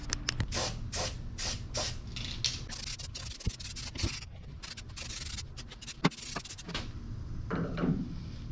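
Spray primer hisses over freshly welded radiator mounts in an irregular run of short bursts, mixed with rubbing and scraping noises over a low background hum.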